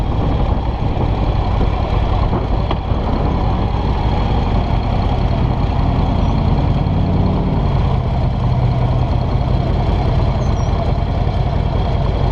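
A 2016 Harley-Davidson Dyna Low Rider S motorcycle on the move, its engine a steady, loud low rumble with constant wind and road noise throughout, no pauses or speech.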